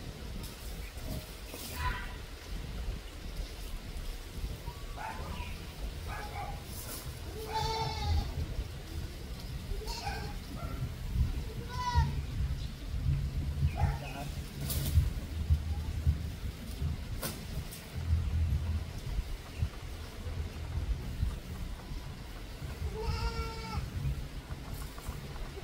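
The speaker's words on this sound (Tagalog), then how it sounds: "Tingnan natin mga kambing." Free-range goats bleat repeatedly in a farmyard, several near and farther calls scattered across the stretch over rustling and background noise, with a person speaking at times.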